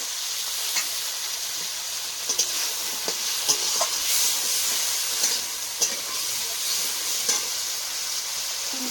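Spice paste frying in hot oil, a steady bright sizzle close by, with occasional scraping stirs and light clinks against the pot, no talking.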